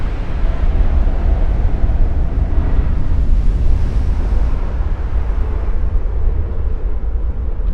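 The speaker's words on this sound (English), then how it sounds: "A pretty big explosion." A large ship blowing up from an aft belt ammunition detonation in a naval battle game, a loud sustained roaring rumble with heavy low-end that stays dense and steady throughout.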